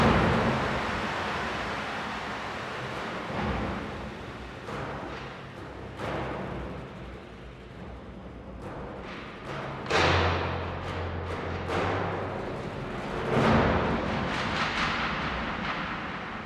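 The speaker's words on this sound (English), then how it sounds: "So if you sum this with the timpanis, with the percussions, everything that has sort of skins and, attitude and transience sounds like this." Tuned orchestral percussion and timpani from a Spitfire Hans Zimmer sample library, deep booming skin hits and rumbling rolls with sharp transient strikes over a dense, noisy low-end wash, loud and continuous.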